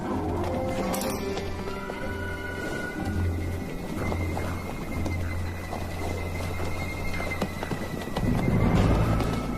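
A horse whinnies and snorts amid steady hoof clatter and rustling outdoor ambience, with a low rumble throughout and no talking.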